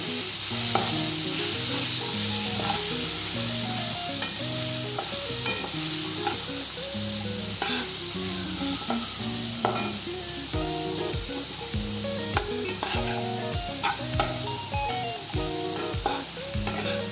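Green beans, tomato and green chillies frying together with spices in a pan, a steady loud sizzle with clinks and scrapes of a spatula stirring throughout, no voices.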